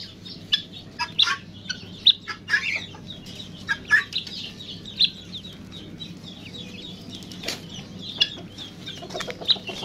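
Chickens cluck and chirp throughout in a cluttered run of short, overlapping calls, fairly close and steady, with no talk over them.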